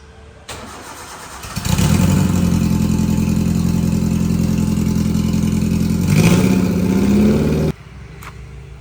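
A Vauxhall hot rod engine starts with a short crank, then settles into a loud, steady close-up rumble, rises briefly as it pulls away, and cuts off near the end.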